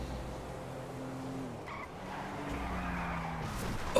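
A heavy Mercedes S600 skidding in a video game, with a steady engine drone and a long tire squeal sliding across the ground, loud and continuous with a brief high screech partway through.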